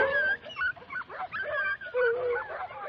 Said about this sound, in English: But then we hear a howl off in the distance.